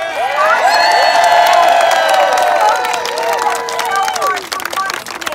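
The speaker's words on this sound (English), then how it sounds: "can we first just have a round of applause for all of the organizers" Outdoor crowd at a National Seashell Day world-record celebration on Fort Myers Beach, with loud sustained cheering, whoops and shouts over scattered clapping, fading slightly toward the end.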